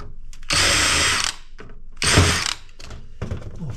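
A power tool works heat sinks off an old scrap circuit board in two loud, steady whirring bursts of under a second each. Scattered clicks and rattles of handling fill the quiet between them, and nobody speaks.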